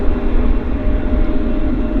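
A Philippine Airlines heavy airliner at Vancouver Airport gives off a steady, loud, continuous engine roar and rumble with no breaks or voices.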